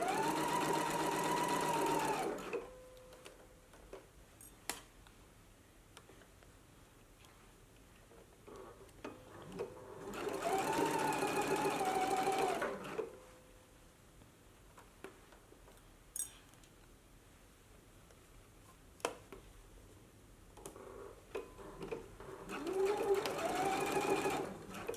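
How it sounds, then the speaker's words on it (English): Three bursts of a sewing machine running a double stitch along a knit dress seam, each a few seconds of steady whirring separated by quiet pauses with small clicks and handling noises. "you can go ahead and stitch again a 1/4 of an inch inside the seam allowance to do a double stitch"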